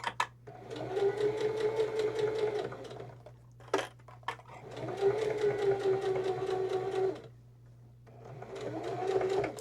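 A sewing machine runs slowly stitching a fabric book sleeve, its motor whirring in three steady bursts separated by short pauses, close and moderately quiet.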